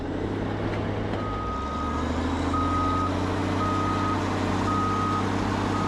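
Reversing beeps from a landfill compactor sound in a steady, evenly spaced series over the loud, constant rumble of its heavy diesel engine running nearby.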